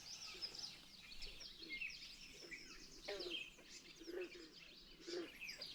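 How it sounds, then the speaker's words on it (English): Harsh, high bird calls ring out at a remote lakeside campsite in northern Minnesota, repeated irregularly at moderate distance over a quiet outdoor background. "It sounds like a really, really angry crow."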